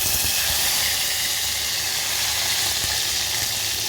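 Curry leaves hitting hot oil while tempering a peanut kuzhambu, giving a steady, close, bright sizzle and hiss that holds throughout with no talking.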